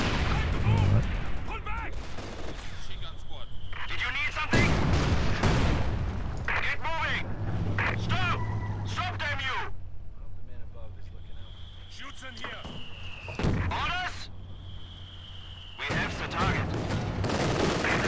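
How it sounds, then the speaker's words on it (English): Machine gun fire in Company of Heroes 2, a World War II strategy game, comes as repeated bursts of rattling shots mixed with other battle noise, running under steady talking. "Third machine gun now."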